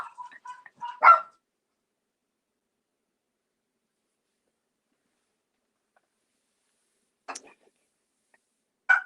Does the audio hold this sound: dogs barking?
yes